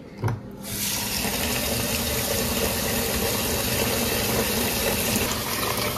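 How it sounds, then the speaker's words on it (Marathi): Rice for chicken biryani is washed in a bowl under a steady stream of running tap water, a continuous close gush that starts after a brief pause and carries on alone. "हे तांदूळ आपल्याला स्वच्छ धुवून घ्यायचे आहेत आणि साधारण 1 तास ते भिजत घालायचे"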